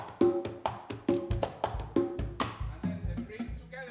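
A quinto, the smallest plena pandero hand drum, is played alone in a fast, syncopated pattern of sharp, close strikes with sparse accents.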